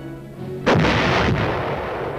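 A Korean War-era artillery gun fires once with a single deep, heavy boom, followed by a long rolling rumble that slowly fades, loud and without voices.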